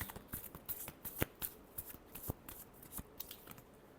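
Tarot cards are shuffled by hand close up, a quiet run of soft riffling flicks and sharper snapping clicks in an uneven rhythm.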